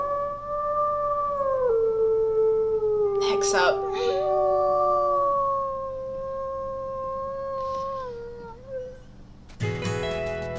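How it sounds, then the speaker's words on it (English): A long wolf howl in the video game WolfQuest, a sustained wavering tone that slides gradually downward and fades, with a brief voice speaking partway through and a harsh buzzing burst at the end. "We can actually just howl"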